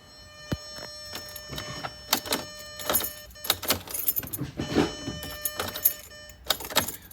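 Car keys jangle and clink in a dead car's ignition in a series of close, uneven bursts, with small clicks and shuffling between them and no engine sound.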